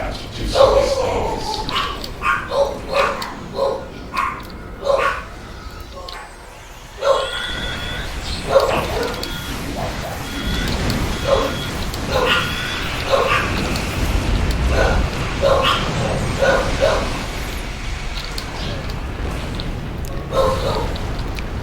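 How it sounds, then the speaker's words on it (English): Puppies yip and bark in short, repeated bursts that continue through the clip, close by and mixed with people talking. "Puppies."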